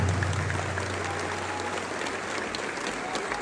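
An audience at a rally honoring Niger's president applauds loudly and steadily, a dense wall of clapping throughout, with a low amplified hum underneath.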